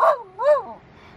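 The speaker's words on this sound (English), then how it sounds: "You gonna bark at it?" A dog barks at a turtle, giving two short, close, rising-and-falling yelping barks about half a second apart before the sound fades out.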